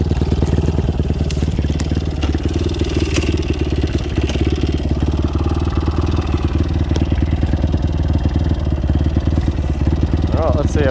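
A motorbike engine runs steadily on a rural property, a continuous close, loud idle-like drone with a dense low rumble and rhythmic clatter lasting throughout, with faint talk in the background.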